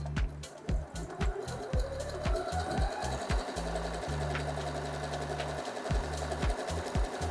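An Usha Janome Sew Magic sewing machine stitches in rapid mechanical bursts, its needle thumping rhythmically with a brief steadier run in the middle, close and clear with no talking.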